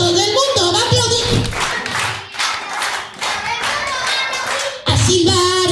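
Audience at an impersonator event in Lomas de Castillotla claps along in steady rhythm, with music and a singing voice over the top.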